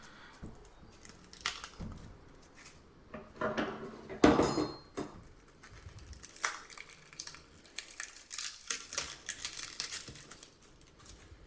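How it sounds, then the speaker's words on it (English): A blunt knife or spoon levers apart the two halves of a mango seed, making scattered woody cracks, scrapes and clinks, with one sharp louder snap near the middle, all close and without talk. "you'll just use a blunt knife or a spoon or something just to lever the two parts of the seed apart"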